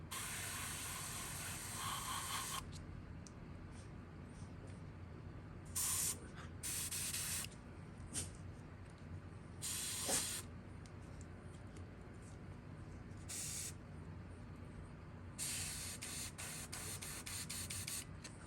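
An airbrush sprays paint through a mottled stencil onto a fishing lure, a continuous soft hiss with short bursts where the trigger opens harder, steady and close throughout without speech.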